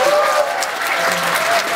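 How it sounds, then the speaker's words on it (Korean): A large crowd at a smartphone promotional event in Korea applauds loudly and steadily, a dense, continuous wash of clapping with cheering mixed in, sustained for the whole stretch. "다시 한 번 더 큰 박수로 맞아주시죠."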